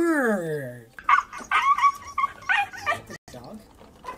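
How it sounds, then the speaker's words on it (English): A dog whimpers in a falling, drawn-out whine, then yips briefly while people talk and laugh loudly over it. "Dog?"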